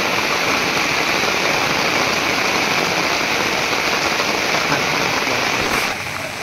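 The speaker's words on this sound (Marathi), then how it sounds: "पाऊस बघा किती लागतोय मित्रांनो" Heavy rain pours down in a jungle in a dense, continuous roar, loud and close, easing slightly at the very end.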